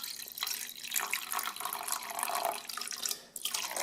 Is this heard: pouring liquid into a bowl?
yes